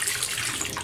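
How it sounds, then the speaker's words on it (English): Water splashes out of a shaving brush into a sink in a short, steady trickling gush with no talking. "Let's empty the brush contents of water in there."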